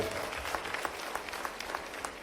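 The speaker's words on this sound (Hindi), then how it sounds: "जोरदार ताली बजा" Applause from an audience at a live public event in Bhopal with Chief Minister Mohan Yadav, a steady wash of many hands clapping with a few sharper claps standing out, fairly faint and distant throughout.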